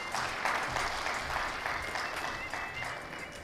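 Audience applause at an award ceremony honoring Shekhawati achievers, a steady sustained clapping from a sizable crowd that carries evenly through the whole stretch with no speech over it.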